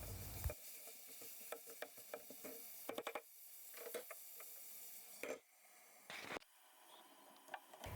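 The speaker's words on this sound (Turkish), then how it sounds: "Kavurma işlemine devam edelim" Onions and carrots sauté in a pan with a quiet sizzle under repeated scraping and clicking stirs, with irregular bursts of spoon-on-pan contact between calmer moments.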